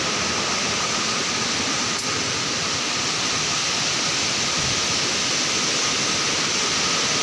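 River water flowing, a loud, steady, dense rush that continues without a break, close to the microphone and with no talk.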